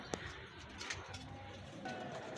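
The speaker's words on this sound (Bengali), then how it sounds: "এইখানে দুইটা টেডি কবুতরের বাচ্চা আছে" Teddy pigeon chicks give soft, faint coos and brief calls in a quiet indoor coop, a few low murmuring sounds close by.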